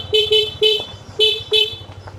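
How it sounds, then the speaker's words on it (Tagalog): A motorcycle horn honks five short beeps in an uneven rhythm, loud and close, with an engine idling low underneath at a rural campsite entrance. "So busina lang tayo para marinig siguro tayo."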